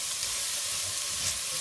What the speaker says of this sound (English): And our bacon. Give that a little stir through.